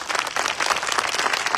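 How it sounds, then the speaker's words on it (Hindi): Applause from an audience at a live praise and worship event in Jacobabad, Sindh, a dense, continuous patter of many hands clapping, loud and sustained, with no talk. "और उसके लिए जोरदार ताली कौन बजाएगा?"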